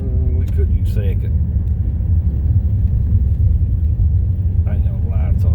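A pickup truck engine labors in low gear climbing a snowy hill in southeastern Kentucky, a loud continuous low rumble from inside the cab, with a voice talking briefly over it.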